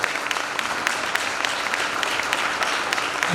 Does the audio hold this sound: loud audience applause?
yes